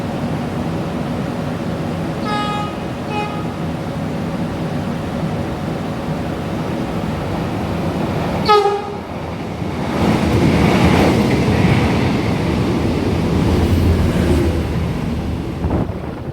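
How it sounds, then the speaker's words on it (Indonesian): A YIA Airport Express train races straight through Wates station at about 100 km/h, a horn sounding briefly before a rushing, roaring wash of wheels and wind builds and holds loud and close. "yang barusan melintas langsung itu adalah kereta api Bandara YIA Express"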